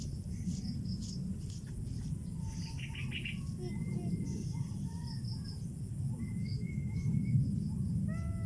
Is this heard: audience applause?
no